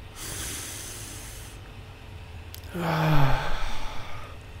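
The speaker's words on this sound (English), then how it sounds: "I am taking a deep breath in, I'm holding it, and I'm now exhaling." A slow, deliberate deep breath is drawn in and then exhaled as a breathing exercise to ease panic and anxiety, the breath soft and near with a stronger, hissing release in the second half.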